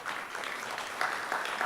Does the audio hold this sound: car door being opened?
no